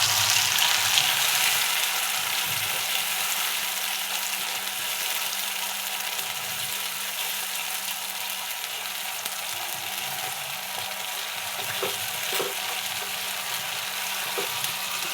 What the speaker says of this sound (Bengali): তেল গরম হয়ে গেছে, দিয়ে দেবো 5 ফোড়ন, দিয়ে দিলাম বেটে রাখা মশলা